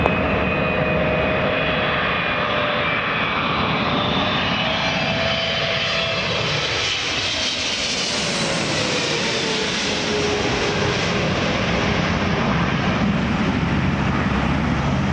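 An Air Canada heavy jet lands at Toronto Pearson airport in the evening, a loud sustained engine roar that swells and sweeps past nearby, filling the whole stretch with no talk.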